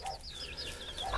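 Three-week-old naked neck chicks huddled under a broody hen give soft, high peeps and chirps, with low clucks from the hen, heard faintly and close up.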